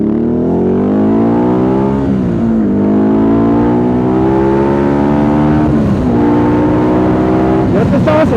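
A Ducati Multistrada 1200 motorcycle ridden off-road in off-road mode, its engine droning loudly and continuously up close, pitch climbing and dropping as the rider works the throttle through several rises and shifts.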